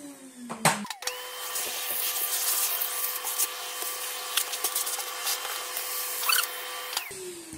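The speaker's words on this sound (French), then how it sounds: "on aspire." Vacuum cleaner switched on indoors, its whine rising after a brief clatter and holding a steady close, loud drone with small bumps of movement before cutting off near the end.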